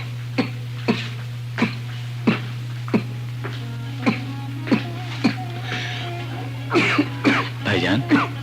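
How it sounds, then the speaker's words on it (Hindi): A person coughs and clears their throat repeatedly in short, sharp bursts roughly every half second to second, close and moderately loud over a steady low hum, with a rougher cluster of coughs near the end. "इस वक्त आपको खांसी बहुत आ रही है"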